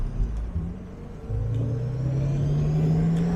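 A modified Jaguar E-Type V12 engine runs at a steady 3,000 RPM, a low droning hum with a slowly rising tone and no voices.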